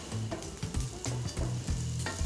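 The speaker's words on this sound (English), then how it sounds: "just add some fresh sage, and that's gonna fry up and give it a lot of flavor" Fresh sage fries in a pan for vegan pumpkin pasta, a close, steady sizzle with short bursts of crackling as the leaves are stirred, with no talking.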